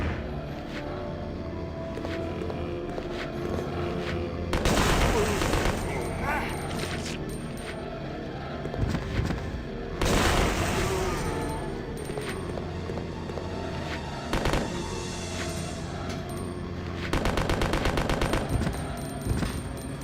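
Submachine gun fire in Resident Evil Code Veronica comes in repeated loud bursts of rapid automatic shots over continuous game background noise and music, with people talking between the volleys.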